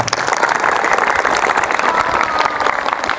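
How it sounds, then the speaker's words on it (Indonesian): An audience at a gathering of four Indonesian pencak silat schools, PSHT, Pagar Nusa, Merpati Putih and Trisula, claps loudly and steadily, a dense, even wash of applause with no talk over it. "Tepuk tangan dulu dong."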